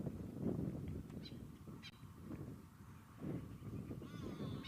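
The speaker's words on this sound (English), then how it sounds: "You can hear the go-away bird go." Harsh nasal calls of a go-away bird in the wild, several hoarse honking cries at a moderate distance over wind and breeze noise, with a few faint higher chirps from other birds.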